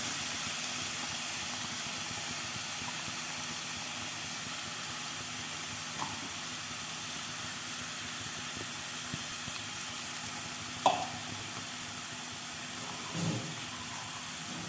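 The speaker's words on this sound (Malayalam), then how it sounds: "ഇപ്പോൾ ഇനി ഞാനിതിലേക്ക് ടൊമാറ്റോ ഗ്രൈൻഡ് ചെയ്ത് വെച്ചത് ചേർക്കാം" Ground tomato sizzles in a hot pan with a constant hiss, and a couple of faint scrapes are heard as it is stirred.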